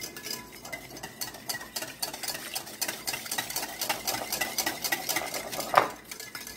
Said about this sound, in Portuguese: Eu vou mexer com o fouet, misturar